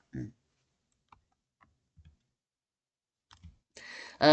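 A few faint, sparse clicks spaced out over quiet, like a computer mouse being pressed, with brief bits of speech at the start and end.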